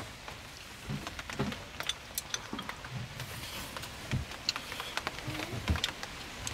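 Heavy rain falls in a steady, soft hiss with scattered sharp drop impacts and occasional low thumps. It sounds fairly faint and distant, and no one speaks.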